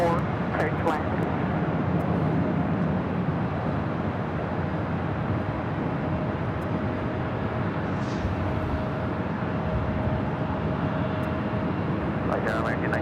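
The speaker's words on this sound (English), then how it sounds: "EVA Air now rolling down" An EVA Air airliner rolls down the runway at LAX, a loud, steady broadband engine roar holding throughout, with radio chatter faintly underneath.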